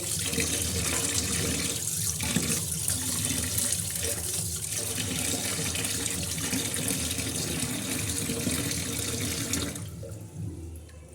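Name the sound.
washing fish under running tap water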